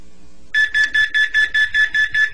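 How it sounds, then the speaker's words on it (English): An Angelcare baby movement monitor alarm sounds: a brief quiet start, then a rapid, steady run of about nine loud, high-pitched electronic beeps, close and alone. "The alarm sounds 5 seconds later,"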